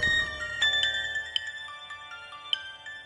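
A phone ringtone sounds in an Assamese TV serial scene, a faint tonal electronic melody with sustained notes and small chime accents, heard alone at moderate distance.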